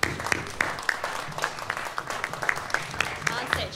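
Audience at a college music student showcase applauds as the performers take a bow on stage, a sustained dense wash of clapping with a few sharper claps standing out, fairly close and steady throughout.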